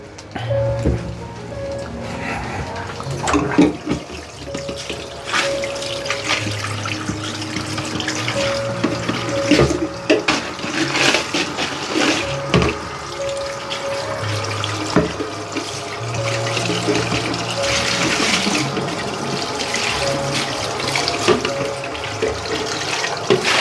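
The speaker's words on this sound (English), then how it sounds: "Okay, I'll just wash this container." Tap water runs steadily into a sink while a container is washed, with splashing, clattering and gurgling that shifts as the vessel fills and empties, heard up close.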